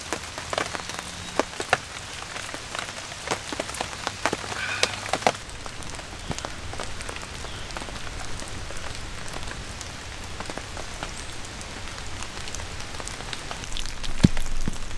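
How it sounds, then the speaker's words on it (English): Heavy, constant rain drums steadily on a tarp shelter over a campfire during an overnight rainstorm in the woods, a dense even hiss broken by sharper drop impacts, loud and close with no voices. "And some kind of constant downpour like this, you gotta protect that fire at all costs."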